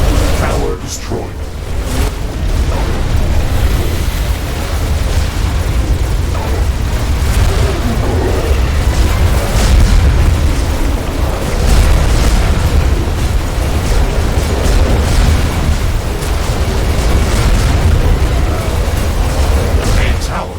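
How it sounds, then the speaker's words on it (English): Towers being blown apart in the base-building game The Riftbreaker: a long, loud wash of rumbling explosions and booms with scattered bursts and pops, continuous and heavy, with speech over it. "A tower has been destroyed."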